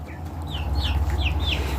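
Buff Orpington chickens clucking soon after leaving their house in cold weather, several short rising calls over a steady low hum, close and moderately loud.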